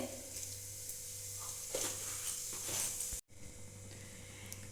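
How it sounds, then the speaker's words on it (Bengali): Cumin seeds sizzle and crackle in hot mustard oil in a wok, a steady close frying hiss with a few sharper bursts, cut briefly near the end before resuming. "তেলে দিচ্ছি সামান্য একটু জিরে"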